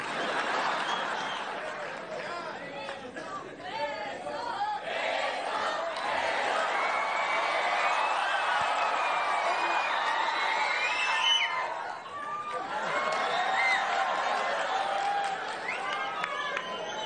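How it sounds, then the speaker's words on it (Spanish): Audience at a Spanish-language comedy show bursting into sustained applause with cheers and shouts, filling the room for most of the stretch before briefly easing and swelling again. "Un aplauso para el caballero."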